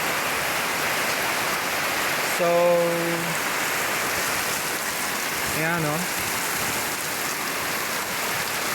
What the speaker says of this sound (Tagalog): Pero grabe yung buhos at tatak ng ulan